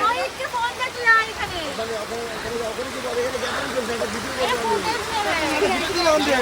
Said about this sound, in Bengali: কি বৃষ্টি হচ্ছে, ভিজে আমাদের একাকার অবস্থা